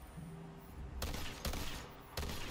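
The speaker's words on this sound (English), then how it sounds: "it shoots as a shotgun" An assault rifle in Tiny Tina's Wonderlands fires with a shotgun-like spread, giving three loud, sharp blasts spaced about a second apart over a steady hum of game background.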